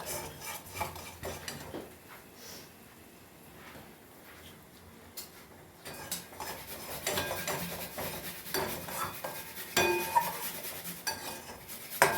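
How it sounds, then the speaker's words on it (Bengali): Spice masala with Kashmiri red chilli powder being stirred and fried in a pan, a spoon scraping and clinking against the metal under a low sizzle, quiet at first, then busier and louder. "ভালোভাবে নেড়ে মশলাটা কষিয়ে নেব।"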